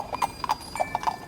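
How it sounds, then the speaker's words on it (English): Horses' hooves clip-clop on hard ground in a brisk, regular trot, several crisp hoofbeats close by and fairly loud, with no voices. "Faster, lazy horses, faster!"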